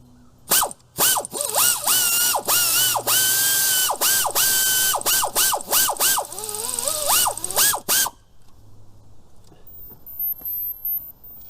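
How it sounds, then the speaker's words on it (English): An air ratchet buzzes in a string of short, loud bursts while working small fasteners on a Chevy Impala during fuel injector and plenum removal, close up, with brief pauses between pulls and a quieter tail. "you got to be careful if you're using air ratchets on small fasteners like this"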